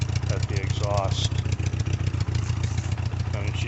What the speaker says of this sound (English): And she just idles real nice,